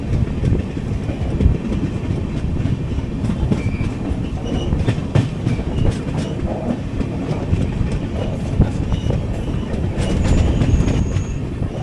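Kacheguda Madurai Superfast Express slowing toward a station, heard from inside an AC 3-tier coach: steady low rumble and rattle of rolling wheels with rhythmic clicks over the joints and faint squeals, continuous, no talk.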